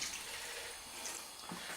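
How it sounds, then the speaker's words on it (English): Water tipped from a tub into a cooking pan of Bombay potatoes with naga masala, a quiet continuous pouring trickle with a small splash near the end, no voices. "So that's the water there. Pour that in."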